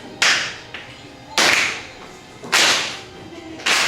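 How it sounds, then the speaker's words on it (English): Slow rhythmic clapping from a group, loud sharp claps landing roughly once every second and a bit, each with a brief ringing tail in a reverberant room, no voices between them. "So what I want some of you to do is to clap like this."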